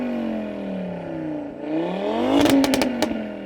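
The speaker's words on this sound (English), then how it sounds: "Audi RS3, can you rev your engine a bit please mate, so we can just enjoy its tone." An Audi RS3 five-cylinder engine revs up hard with a rising harmonic roar, then crackles and pops sharply from the exhaust, loud and close.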